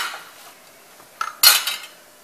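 A wooden spoon knocks and scrapes in a pot, with a few close, sharp clatters after a quiet start and no talking.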